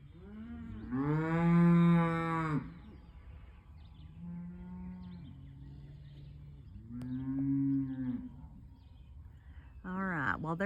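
Cattle on a farm moo loudly and repeatedly while calves are separated from the herd. Long, deep lowing calls come from near and farther off, with quieter grunts between them.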